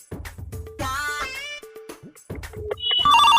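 Electronic telephone ringtone in a comedy sketch, a bright repeating tone swelling loudly at the end after bursts of mixed voices and music.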